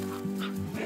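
A dog at a home with horses gives a short, close bark or yip, a single brief burst over a low background hum.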